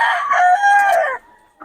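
A prized rooster from Batangas crows once, loud and close, in a single drawn-out call lasting just over a second, then quiet with a faint clucking note at the end.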